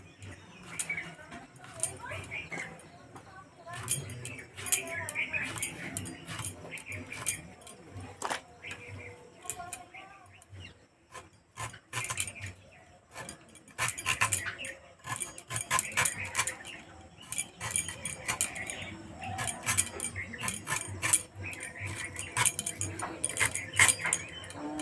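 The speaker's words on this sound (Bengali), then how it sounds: "এবার ছোট ছোট করে কেটে নেব।" Raw jackfruit being sliced into small pieces with a knife, giving a run of sharp cutting taps and clicks on a board at close range, mixed with a speaking voice.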